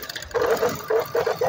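Sewing machine stitching a triangular fabric strip onto a sleeve, a close mechanical whirr that comes in three short runs with brief pauses between them, no voices.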